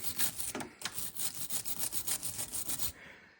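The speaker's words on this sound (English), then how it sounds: "Here's a very technical step worthy of filming, the wire brushing." A wire brush scrubs the freshly filed edges of aluminum in quick, rhythmic back-and-forth strokes, a close raspy scratching that repeats about three times a second, then stops.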